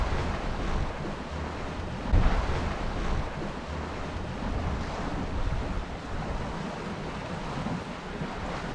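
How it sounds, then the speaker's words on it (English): Steady wind rushing and water washing past a small sailing boat running downwind across the River Blackwater toward West Mersea, a continuous broad roar with gusty swells and a brief louder buffet, no talking. "So wind right behind us now, heading across to West Mersea."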